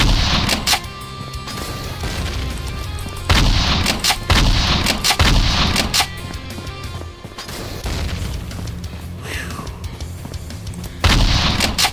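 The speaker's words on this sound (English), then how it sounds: "Let's see if I can mow a few of them down with the shotgun" Shotgun blasts mowing down spiders in a video game, heavy booming shots repeated at uneven intervals over a dense, noisy backdrop of continuous game sound.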